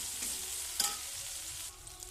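Ginger-garlic paste and turmeric frying in oil in a pan, a steady soft sizzle with one brief scrape of stirring near the middle, close and fairly quiet.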